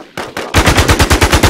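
Rapid machine gun fire in the survival shooter game Infestation: a few separate shots, then a sustained, evenly paced burst of loud, close bangs.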